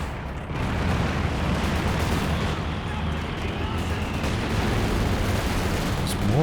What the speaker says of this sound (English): There's mortars.